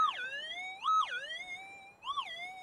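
A metal detector passed over a gold target at normal swing speed gives loud, rising and falling warbling tones, three swelling signals in quick succession with no talk over them.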